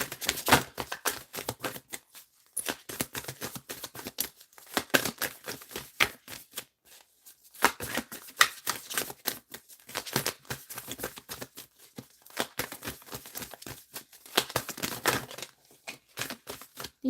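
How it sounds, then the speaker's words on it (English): A deck of cards is shuffled in repeated bursts of riffling and snapping, close and fairly loud, with short pauses between rounds and no talking. "Let's get one more good shuffle."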